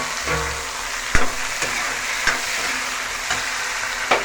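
Two tomatoes tipped into a pan of fried onions, a strong steady sizzle of frying with several sharp clacks of a spoon against the pan at intervals, close and alone.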